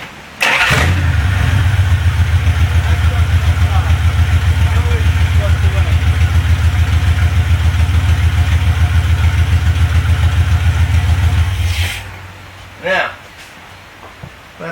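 An old Mopar engine fitted with a 5-pin ignition module cranks loudly and steadily for about eleven seconds with a fast, pulsing starter rhythm, close by, then stops, followed by a brief short burst of sound.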